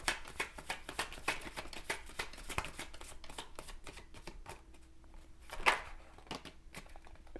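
Oracle cards shuffled by hand for a pick-a-card reading: a steady run of crisp riffling flicks and slides, close and fairly quiet, with one louder slap near the end and no talking.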